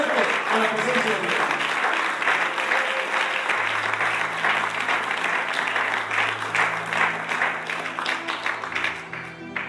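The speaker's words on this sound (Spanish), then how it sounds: "un aplauso muy fuerte a la presencia de Dios" A church congregation applauds loudly and continuously for about ten seconds, dense clapping filling the room, with a voice talking over it and a low sustained tone underneath.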